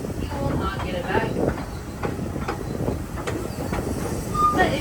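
Serengeti Express train at Busch Gardens Tampa Bay rolls along with a steady low rumble and faint clicking of wheels on track, broadband and continuous throughout, with no voices over it.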